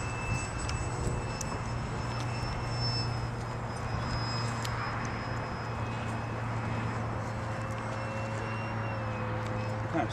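An RC electric ducted fan Habu jet model flies on its maiden flight, a steady high whine with shifting tones at moderate distance, under a continuous low hum, with people talking intermittently.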